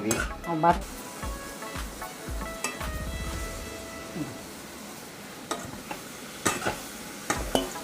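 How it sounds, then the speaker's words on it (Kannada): Raisins and cashews roasting in a pan for mango kesari, with a spoon scraping and stirring against the metal and soft sizzling underneath, while people talk over it intermittently. "ದ್ರಾಕ್ಷಿ, ಗೋಡಂಬಿ ಹಾಕಿ ಹೌದು ಹುರ್ಕೊಳ್ತಾ ಇದ್ದೀವಿ"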